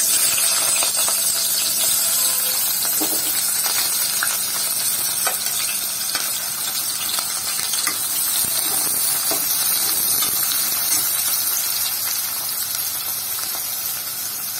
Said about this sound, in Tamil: இப்போ நம்ம எண்ணெய் காஞ்சிருச்சு, வெங்காயத்தை போட்டுருவோம்